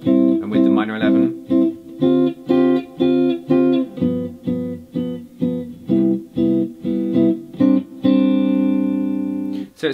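A guitar plays a chord progression built on minor 11 voicings, with clear strummed chords struck in a steady rhythm, each ringing briefly before the next, ending on one longer sustained chord.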